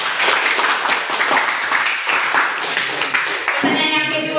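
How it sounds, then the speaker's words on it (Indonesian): In a school discussion session, an audience claps for a student, giving steady, dense applause that fades near the end as a voice begins. "Mungkin bisa diberikan aplaus kepada saudara."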